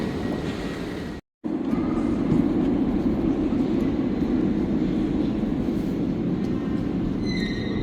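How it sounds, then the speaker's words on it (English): Subway-type metro train running underground, a loud steady broadband rumble and roar that holds continuously after a brief cut near the start. "This happens to be a subway type metro train."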